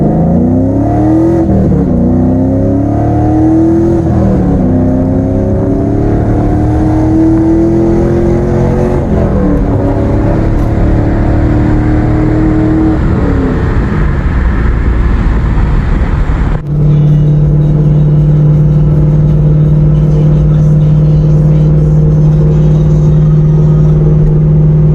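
A Pontiac Trans Am V8 with an LS6 intake, long-tube headers and a dyno tune revs loudly and close by. Rising and falling engine pitch gives way partway through to a steady, droning high idle.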